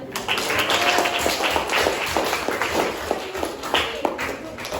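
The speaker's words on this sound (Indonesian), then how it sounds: "tepuk tangan" Classroom applause after a group physics presentation on Newton's first law with a crane model, a burst of many hands clapping close by for several seconds, with scattered taps and a voice briefly underneath.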